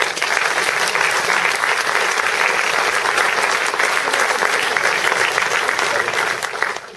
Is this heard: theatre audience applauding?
yes